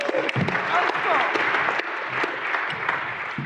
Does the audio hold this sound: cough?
no